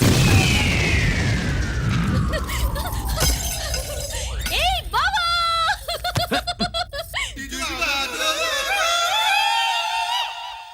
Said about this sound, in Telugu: పూర్ణాలు బాంబుల్లా ఫేలిపోయినాయి ఏంటి?